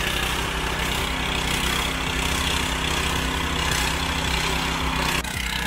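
A Firman FTL 620 cultivator engine runs steadily while plowing a rice paddy, a loud, continuous mid-low drone with rhythmic chugging pulses, close and unbroken, with a short dip near the end.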